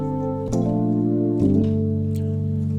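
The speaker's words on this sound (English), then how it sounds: "there's a technique called slap chords." Piano played with the slap chord technique, a struck chord sounding sharply at about half a second and a second one near 1.4 seconds, each ringing on in a sustained harmonic wash with no talk.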